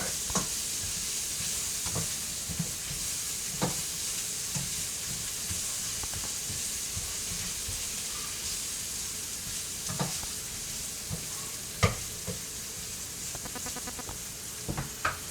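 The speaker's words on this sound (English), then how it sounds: "we're going to do that Italian thing and brown our tomato paste" Tomato paste browning in a pan, a soft continuous sizzle with scattered clicks and occasional utensil knocks, moderately quiet and close, no talking.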